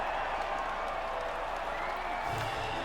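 A crowd at the podium after a race at COTA in the F1 2019 video game applauds and cheers, a steady broad wash of clapping and crowd noise throughout, moderately loud and distant.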